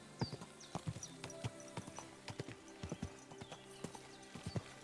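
Horse hooves clip-clopping in the video game Kingdom Come Deliverance 2, a quiet, uneven series of close hoof taps on hard ground with faint background sounds and no talk.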